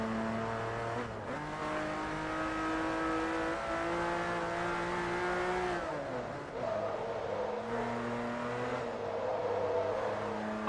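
A racing car's engine drives steadily in Forza Motorsport 3, an eight-cylinder coupe on a road test, with sustained harmonic engine tone, shifting pitch as it revs and shifts, and faint tire squeal throughout.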